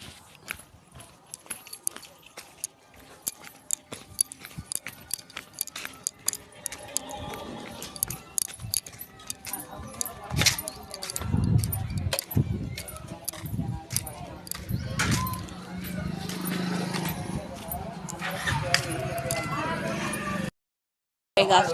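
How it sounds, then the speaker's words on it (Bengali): A padlock is fastened on a house door, with clinking metal and jangling keys in sharp bursts at close range while someone talks over it, followed by louder handling and rustling noise. "দেখো এই যে লক লাগাচ্ছি"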